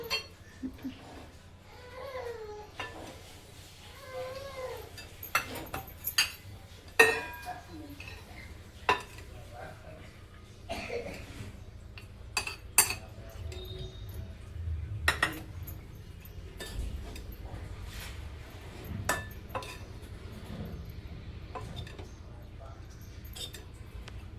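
Kanda poha being served onto a plate at home, with scattered sharp clinks of a spoon and dishes, some louder knocks, over a low steady background hum and faint voices in the distance.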